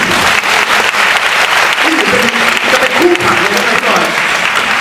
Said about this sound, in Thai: ครับปรบมือน่ครับ